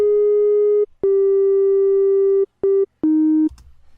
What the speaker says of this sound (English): The sound wave that I'm going to use, the sound wave I'm going to use, or waveform, is a sine wave.